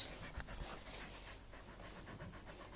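A husky with an injured paw pants hard and fast during a veterinary visit, the rapid breaths close and steady throughout with a faint whimpering edge.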